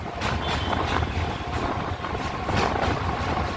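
A train rumbles steadily across a bridge over the Ganga beside a highway, a low continuous roar with rhythmic clatter from the wheels, moderately distant and fairly quiet, with no voices.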